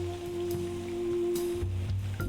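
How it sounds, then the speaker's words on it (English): Steady rain patters indoors in a noir murder-investigation video game, a soft continuous wash of drops over a low electrical hum, with a deeper rumble swelling near the end. "You suddenly realize that it's raining indoors and no one else has noticed."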